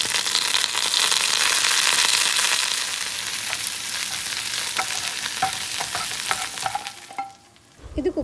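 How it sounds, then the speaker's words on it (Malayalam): Vegetable kurma with curry leaves and coriander sizzles in a pan while a spoon stirs it with repeated scraping and clinking; the frying noise is loud at first, then eases and fades near the end. "കറിവേപ്പിലയും മല്ലിയിലയും ഇട്ട് ഒന്നും കൂടി ഒന്ന് ഇളക്കി കൊടുക്കണം"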